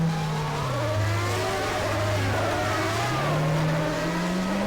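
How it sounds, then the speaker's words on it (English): Loud engine drone of racing cars passing on a racing line in a video game, pitch rising and falling as they rev by, continuous and close. "A couple more cars coming through."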